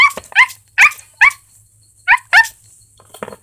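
Several short sharp dog barks, probably a small toy-like bark, come in clusters close by with quiet gaps between them, and faint patter near the end.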